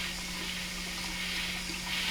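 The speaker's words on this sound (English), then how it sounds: "I can push the water on, so I don't have to worry about contaminating my faucet" A faucet pours a steady stream of water over hands at a sink, a continuous close hiss that holds evenly throughout with no talking.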